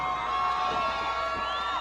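A crowd cheers and shouts at a women's MMA fight, a steady, dense wash of voices at a constant level without a break.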